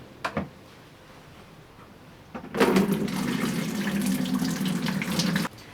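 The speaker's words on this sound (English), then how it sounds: "I'm going to add hot water" A couple of faint clicks, then hot water gushes steadily into a plastic container for about three seconds before stopping abruptly.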